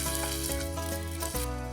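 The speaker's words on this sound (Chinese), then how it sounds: "你尽量把它煎成圆形" Egg pancake batter frying in a hot pan, a dense, loud, continuous sizzle that fills the whole stretch with no talking over it.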